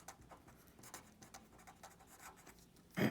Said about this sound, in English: let's just write it,